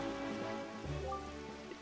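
Steady rain and stormy weather in the video game The Legend of Zelda: The Wind Waker, an even wash of patter layered with sustained game music tones, with no talking.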